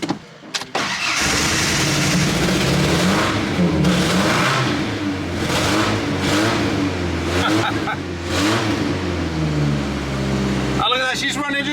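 A car engine running on vodka poured into the gas tank rumbles loudly and steadily for most of the span, revving up and down in uneven surges before cutting out near the end.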